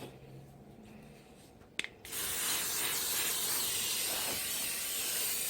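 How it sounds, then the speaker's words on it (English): A click is followed by a steady, loud hiss of cooking spray onto a griddle that continues for several seconds without pause, close to the microphone. "And I'm just going to spray my griddle."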